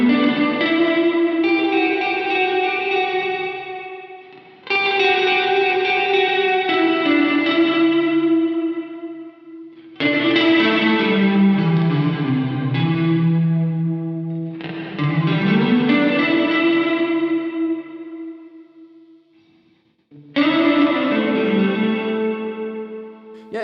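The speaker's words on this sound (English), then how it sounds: "when you max it out, then it's like a full-on chorus on it" Electric guitar through a Cornerstone Nucleo pedal with its chorus set near the middle, sustained chords and bending notes shimmering with gentle modulation, played in several loud phrases separated by brief pauses.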